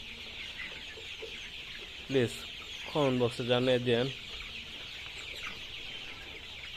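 Poultry-farm chickens cluck in a short burst of a few loud calls nearby, while a person speaks over steady background hum.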